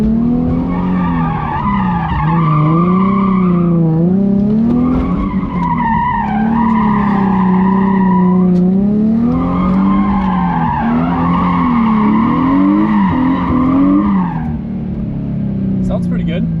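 Loud, sustained tire squeal from a skidding BMW E36 drift car, wavering in pitch through long drifts with brief breaks, engine roaring underneath.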